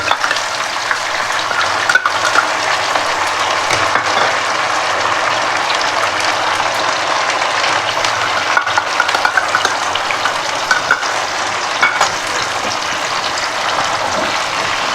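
Green peas with ginger, garlic, green chili and onion paste frying in a pan, a steady close sizzle with occasional scraping stir strokes throughout, no voices.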